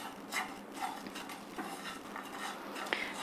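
Spices roasting in a pan as a spoon stirs them, giving light, faint scraping and clinking of utensil on metal in an irregular rhythm, with a soft background hiss and no voices.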